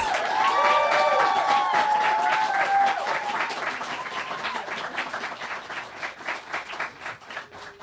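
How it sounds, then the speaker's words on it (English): Applause from a bookstore audience welcoming an author to read from her first novel: a warm crowd of clapping with some cheering and a few high whistles early on, steady at first and then gradually thinning out. "Let's give Alexa a huge round of applause."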